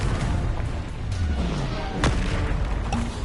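Confringo spell blasts in Hogwarts Legacy: repeated booming explosions and crashes over rumbling game noise, with one sharp, strong burst in the middle.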